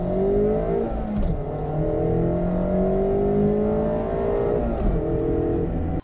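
A Mazda MX-5 with a naturally aspirated engine revs close by, its pitch sweeping up and falling back in repeated smooth climbs, loud and continuous with no talking.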